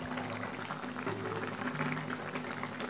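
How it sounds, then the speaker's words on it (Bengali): A thin fish curry broth with potatoes, ridge gourd and lentil dumplings bubbles in a pot at a steady, soft boil, a continuous faint simmer with no talking. "ঝোলটা আমার ভালো মতো ফুটে এসেছে"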